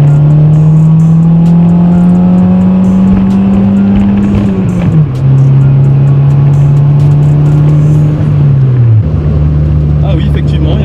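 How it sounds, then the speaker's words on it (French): A Honda Civic accelerates hard with a loud, steady engine drone that climbs in pitch, drops at a gear change, then climbs and drops again, with a voice talking over it. "J'ai accéléré au mauvais moment, moi."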